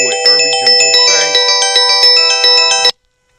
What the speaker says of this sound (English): Nobody has that number that you just heard ringing.